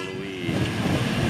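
The Batara Kresna passenger train rolling slowly past a crossing in Sukoharjo, a loud, close mix of rumbling wheels and rail noise with a faint rising horn tone at the start.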